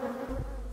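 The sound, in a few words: honey bees buzzing around the harvest brush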